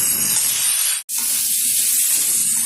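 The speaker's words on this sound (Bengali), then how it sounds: "ভালোভাবে কষিয়ে নেবো মশলাটা।" Cumin-ginger paste and tomato masala fry in a pan with a steady, loud hiss and sizzle, broken by one brief silent gap partway through.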